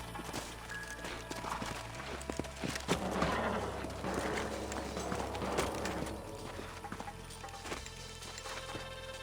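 Hooves clip-clop steadily over a busy Red Dead Redemption soundscape, with a quick rhythmic patter of several horses moving together, fairly loud and close.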